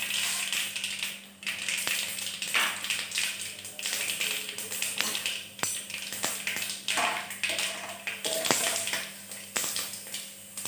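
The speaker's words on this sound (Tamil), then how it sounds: "கடுகு வெடிச்சு முடித்த உடனே" Mustard seeds, along with fenugreek, splutter in hot oil while a pineapple pickle is made at home. Many small pops and crackles come in an irregular, continuous patter at close range, with no talking.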